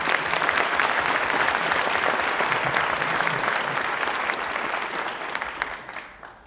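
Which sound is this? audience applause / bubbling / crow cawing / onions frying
audience applause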